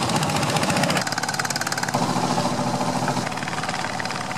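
Close, loud long boat engines on a lake clatter with a rapid, rough throbbing rhythm, running steadily without pause.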